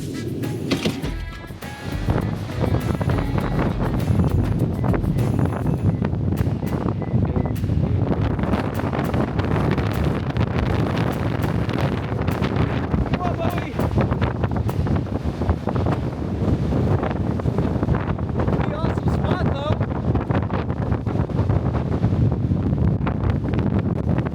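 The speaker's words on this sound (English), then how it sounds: "but it is windy." Strong wind roars steadily across the microphone, a loud continuous rush and buffeting that fills the whole stretch with no talk.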